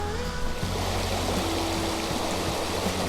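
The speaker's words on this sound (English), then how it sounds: "This is Grandy Creek" Grandy Creek flowing steadily near a campground in the Baker Lake area, a close, continuous rushing and burbling of water that holds even throughout, with no voices.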